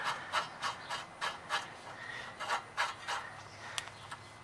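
Rhythmic metallic scraping and rasping strokes, close and steady, as a castle nut is threaded by hand with a tool onto a ball joint of a Honda S2000, repeating roughly every third of a second.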